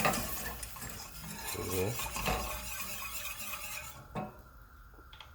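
Milk being stirred into a pan of Yukon potatoes and butternut squash for au gratin, with a spoon scraping and clinking against the pot in irregular strokes, close and moderately loud, and a brief spoken word near the end.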